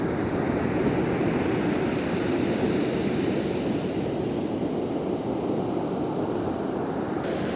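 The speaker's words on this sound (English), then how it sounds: "The waves are huge" Huge ocean waves roar in a broad, continuous wash of surf, loud and close, with wind buffeting the microphone and no voices.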